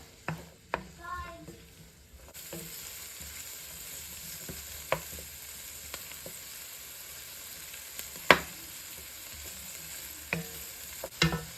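Peppers and herbs sizzle in a hot pan over medium-high heat, with a steady frying hiss and a few sharp scrapes and clicks of a utensil stirring the mix.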